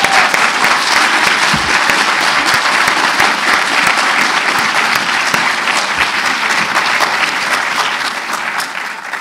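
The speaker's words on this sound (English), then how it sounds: "Shall we give them a round of applause for their..." Dense, steady applause from a debate audience on proportional representation, loud and continuous for about nine seconds before easing slightly at the end, with no talking over it.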